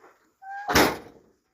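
On an automatic four-wheel-drive vehicle, a car door shuts with a solid, nearby thud. A short, high electronic tone plays just before it.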